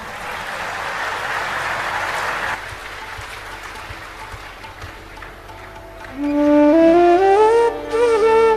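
A burst of audience clapping at a Ram Katha discourse fills the first few seconds, then fades to a quieter murmur before a sustained melodic tone rises near the end.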